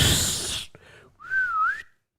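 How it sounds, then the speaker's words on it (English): A person who can't really whistle attempts it after a noisy burst, producing a wavering, thin whistled tone that rises and dips for under a second, close and alone. "I've always wanted to whistle, but I can't."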